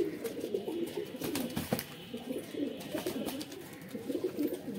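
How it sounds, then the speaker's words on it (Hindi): Pigeons cooing at close range, overlapping soft throaty calls repeating in an uneven rhythm, with a few sharp flutters or clicks in between, no talk. "तो भाई ये देखो अपने कबूतर कुछ यहाँ पे और कुछ वहाँ पे।"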